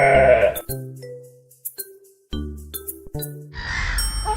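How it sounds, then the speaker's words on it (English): A sheep bleats in a children's farm animal song, with a short wavering bleat at the start and another toward the end, between tinkling chimes and simple melodic tones. "Sheep."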